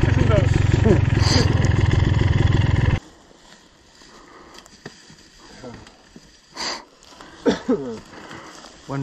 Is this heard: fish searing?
no